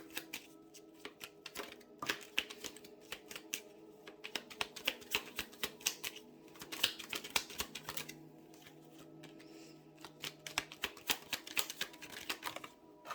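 Small oracle deck cards, a mini starseed set, being shuffled by hand: repeated quick papery riffles and flicks in uneven bursts, fairly faint and close, with no talking.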